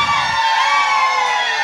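Studio audience of Palmeiras fans on a Brazilian TV variety show cheering and shouting, a steady loud crowd roar sustained throughout with no talking over it.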